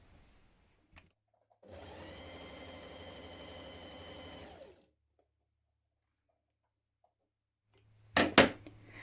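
A sewing machine stitches a 1.5 cm seam on stretch jumpsuit fabric, a steady whirring motor run of about three seconds, then silence and a pair of sharp clunks near the end.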